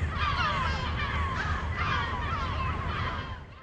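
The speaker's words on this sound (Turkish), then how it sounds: "Üsküdar sahil yolunda duyulan tek ses martıların sesiydi." Gulls calling along the Üsküdar shore road in Istanbul, a steady stream of overlapping harsh cries at moderate distance over a low, constant background rumble, fading slightly at the end.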